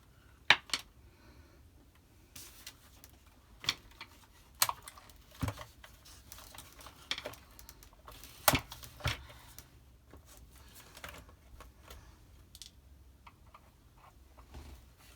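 Plastic clips on a Shark robot vacuum snap and click as the casing is pried apart, scattered sharp ticks and small cracks spread irregularly over a quiet background, close up.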